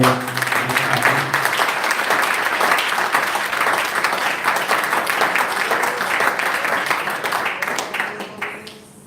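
A crowd applauds steadily and loudly for several seconds, the clapping tapering off abruptly at the end.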